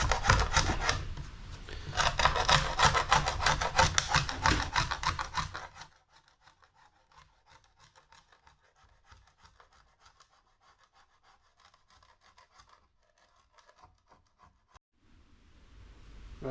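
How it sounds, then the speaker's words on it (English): Loud, rhythmic rasping scrapes as old silicone is scraped off narrowboat hatch woodwork for several seconds, then quieter intermittent scratching and scraping, ending with a low rumble. "So I've got to try and get all the silicone off."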